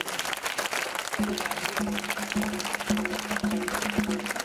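Sustained audience applause at a smartphone launch keynote in Côte d'Ivoire, a dense wash of clapping hands that continues throughout, with a low hum underneath.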